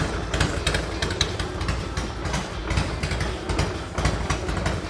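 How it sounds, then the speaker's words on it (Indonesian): An old Harley-Davidson motorcycle engine idles steadily from a cold start, a low rumbling throb with rhythmic pulses, close and fairly loud, with no voices. "Ini idle-nya lagi mesin dingin,"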